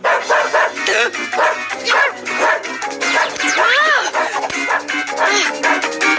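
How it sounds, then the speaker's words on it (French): Cartoon dog barking and yipping in a French animated series, a run of repeated barks with whimpery yips, close and loud, with voices and music mixed in. "Arrête d'aboyer, Bill."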